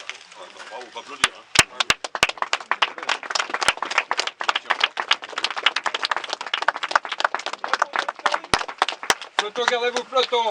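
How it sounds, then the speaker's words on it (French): Dense applause from a gathered crowd at a plaque unveiling ceremony in Champrond-en-Gâtine, a steady close wash of many hands clapping for about ten seconds before a voice breaks in at the very end. "Bravo, on va applaudir."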